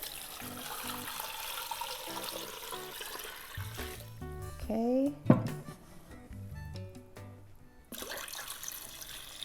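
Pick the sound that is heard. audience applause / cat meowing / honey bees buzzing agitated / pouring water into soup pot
pouring water into soup pot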